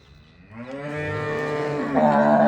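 A freshly calved Punjab Jersey cow lets out one long, close moo that rises in strength toward the end, heard alone without talking.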